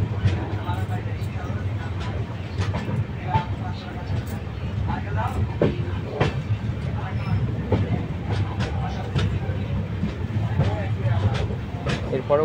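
Howrah Balurghat Express rolls along the line with a steady low rumble and scattered rhythmic rail clacks, heard from on board, with a person talking over the running noise.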